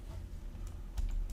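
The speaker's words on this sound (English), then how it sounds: "type in air and press enter" A few quick keystrokes on a computer keyboard while entering a search in Fusion 360 design software, soft and close, ending with a firmer key press.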